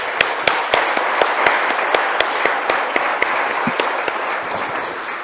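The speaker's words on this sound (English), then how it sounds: "We are going to applaud." Closing-session audience at a GEE2025 conference applauding, a dense sustained patter of clapping with sharp individual claps standing out close by, no speech over it.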